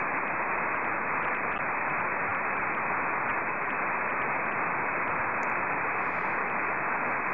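WD4GSM/B radio beacon signal, 410 miles away, picked up on a receiving antenna: a steady, band-limited hiss of static runs unbroken throughout with no voices.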